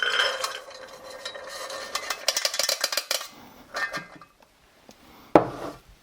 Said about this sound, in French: Je transfère ça directement dans mon pot de cuisson.